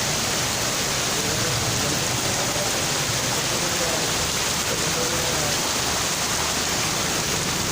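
Heavy rain pours down in a dense, loud, unbroken hiss of water, saturating the air with noise and never easing.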